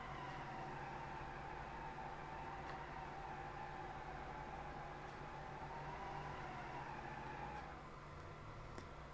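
In the BeamNG driving game, a car does a burnout on the pad at the Freedom Factory map; a steady engine drone runs throughout with a wavering high tire squeal on top, fairly quiet and continuous.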